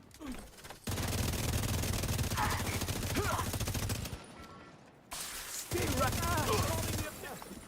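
Rapid automatic turret fire in a multiplayer shooter, sustained loud bursts of dense rattling shots with a short pause in the middle, plus a few electronic blips and chirps.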